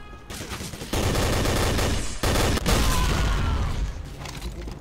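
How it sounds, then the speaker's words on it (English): Dense gunfire and repeated explosions from the World War II shooter Day of Defeat: Source, a loud, continuous barrage of shots and booming blasts with no talk over it. "there's a lot of explosions in this game"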